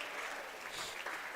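Crowd applause at a high school swimming meet, a steady wash of clapping filling the natatorium as a swimmer finishes a freestyle race, continuous and moderately loud throughout.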